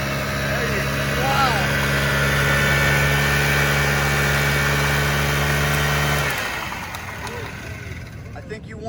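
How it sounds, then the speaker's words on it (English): A pit bike engine at a vintage motorcycle event revs hard and steadily through a burnout, a loud, close, sustained mid-pitched drone that cuts off near the end, with people talking underneath. "you may even see a pit bike burnout"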